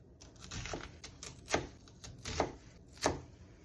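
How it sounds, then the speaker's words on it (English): A knife slices an onion into small pieces on a cutting board, giving a run of crisp, close chopping taps with three sharper strokes standing out, quiet and alone. "And then do the same like vertically like this and make small little slices."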